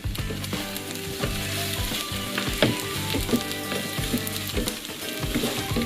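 Sticky rice sizzles and fries in a hot pan as a utensil stirs it in repeated scraping strokes, a steady close crackle with no talking.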